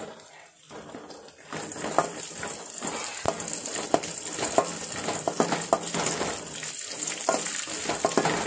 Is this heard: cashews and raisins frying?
yes